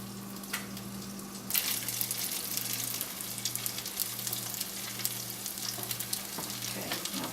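Pork medallions sauteing in a pan, a steady close sizzle that grows louder once the meat goes in, over a low hum, without talking.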